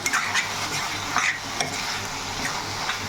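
Chicken keema stir-frying for pulao, a steady close sizzle with frequent scrapes and light clinks of a spoon against the pan, no voices.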